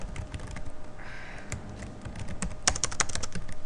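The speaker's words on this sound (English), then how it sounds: "It would help if I could type." Rapid clicking keystrokes on a computer keyboard, close and uneven, with a brief pause before a denser flurry of taps toward the end.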